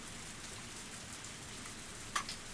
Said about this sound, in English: Its surface was being pummeled by the downpour